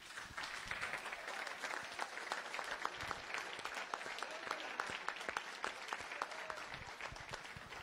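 An audience at an indoor youth gathering claps in a sustained burst of applause, fairly faint and steady, with no voices over it.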